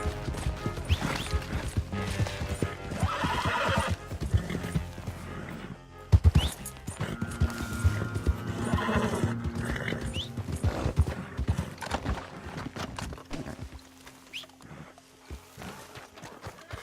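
Horse hooves clip-clopping in Red Dead Redemption 2, with a horse neighing amid busy in-game sounds and a crash partway through; the hoofbeats are loud and close, continuing throughout before tapering toward the end.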